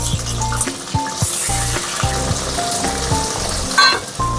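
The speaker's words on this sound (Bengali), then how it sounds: "এবার এই যে প্রথমে আলুটা ভেজে নিই" Long-cut potato pieces frying in a pan for a vegetarian potato-eggplant curry with bori, sizzling steadily and fairly loudly throughout, with faint clinks and other kitchen sounds over the top.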